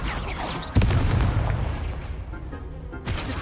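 A Confringo blasting spell erupts with a loud, sharp boom in Hogwarts Legacy, then a rumbling tail that fades out before a second burst lands near the end.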